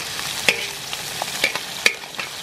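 Ground beef and chorizo sizzling on a cowboy wok discada, a steady crackling fry broken by a few sharp scrapes and clinks of a utensil stirring the meat, close and fairly loud with no talking.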